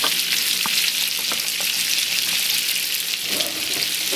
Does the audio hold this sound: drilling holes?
no